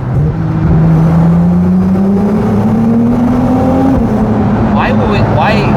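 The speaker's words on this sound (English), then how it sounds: "Start the engine." A car engine starts and revs up in a tunnel, with a steady rising drone held close and loud throughout, while people talk over it.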